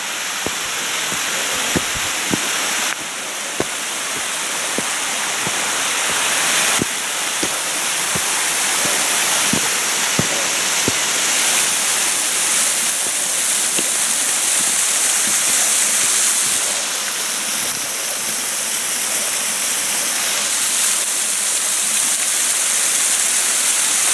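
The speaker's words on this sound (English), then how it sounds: "little waterfall here" A small waterfall beside a Swiss mountain footpath near Rinkenberg, a loud continuous rushing of falling water close by, with faint footsteps and scuffs now and then.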